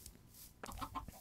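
Chickens cluck in Minecraft by a coop, a few short quiet clucks in a rough run over a soft background hiss.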